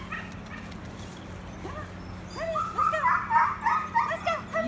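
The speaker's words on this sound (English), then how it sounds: "Beautiful little lab puppies," Nine-week-old Labrador puppies at a shelter rescue give high, rising whimpers and yips, sparse at first and then a busier, louder cluster of overlapping cries over a steady low hum.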